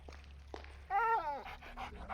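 A dog in a video game pants and gives a short whining, whimpering vocal note, quiet and close, over a low background hum.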